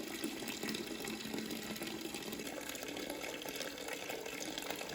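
Antifreeze drains from a 1949 Farmall C tractor into a partly filled bucket, a steady close-up splashing trickle that keeps going without a break.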